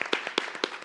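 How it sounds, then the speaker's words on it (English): Scattered audience clapping for a panel guest at an urban music event, a few faint, separate claps in a loose rhythm, close and brief. "Can you give our lovely panel guest a round of applause?"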